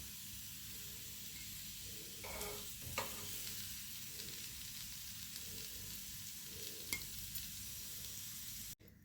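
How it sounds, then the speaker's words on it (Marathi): Yam slices shallow-frying in a pan, a soft, steady sizzle at low level with a few brief clinks and scrapes, close by and with no talking. "आता राहिलेले देखील आपण असेच फ्राय करून घेणार आहोत"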